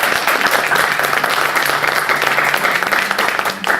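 An audience at a university research presentation competition in Indianapolis gives a round of applause to the presenters, sustained and fairly loud, with many hands clapping evenly from start to finish.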